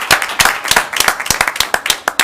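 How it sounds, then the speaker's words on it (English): A round of applause at a borough council meeting: sparse, individual claps from a small group ring out close and sharp, rising and falling for a couple of seconds. "One more round of applause for everyone."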